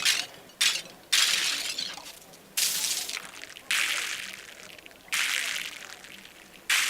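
A WMD Fracture granular synthesizer module plays dense bursts of particles, several hissy, crackling swells that start abruptly and fade, like a crowded room of clattering grains, close and prominent.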